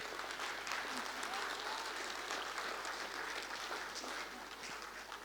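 Steady, sustained applause from a large crowd at a music concert hall, dense clapping holding at an even level throughout before easing slightly near the end.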